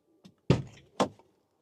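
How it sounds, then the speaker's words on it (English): Driver's door of a 2024 Mercedes-Benz eSprinter electric van unlatching and swinging open: a soft click, then two solid clunks close by in a quiet cab. "Now, when I open the door,"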